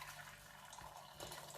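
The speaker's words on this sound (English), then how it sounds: "I've actually boiled water in the kettle, and I'm just going to pour that water over them." Boiling water from a kettle is poured over eggs, a faint steady liquid splash and trickle heard alone at low volume.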